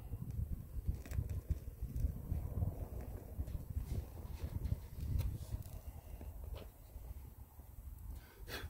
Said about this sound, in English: A little windy out.